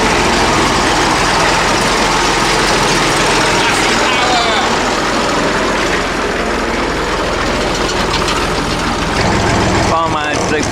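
The 35 tractor drives during hay making, its engine running loud and close as a constant heavy drone that never lets up.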